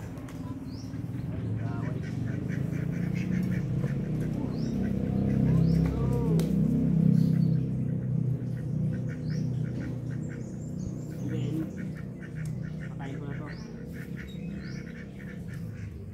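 Ducks quack repeatedly while being fed grass outdoors, their calls fairly close and mixed with small bird chirps over a steady low background hum, with a person talking intermittently.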